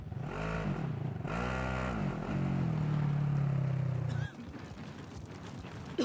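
A vehicle engine in Call of Duty Warzone revs and drives, its rising and falling drone loud and close, settling into a steady hum before cutting off to rougher background rumble.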